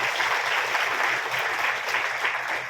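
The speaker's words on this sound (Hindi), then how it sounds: "देखो दीदी भी आ गए, ताली बजा के स्वागत भी करेंगे।" An audience claps steadily throughout to welcome Poonam Didi at a spiritual gathering, a dense, even wash of hands with no pause.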